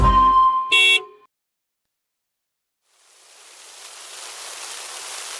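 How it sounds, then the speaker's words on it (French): A short car horn toot is followed by silence, then steady rain fades in, a soft, broad hiss of drops that grows and holds in an animated children's song scene. "Oh, il pleut!"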